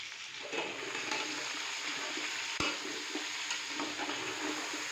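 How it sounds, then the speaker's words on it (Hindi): Chicken stirred and frying in hot oil for Kashmiri chicken pulao, a steady broadband sizzle running throughout with light scraping of the stirring and one sharp knock near the middle, no voices. "चिकन डालने के बाद अच्छे से मैंने इसको मिक्स कर लिया है"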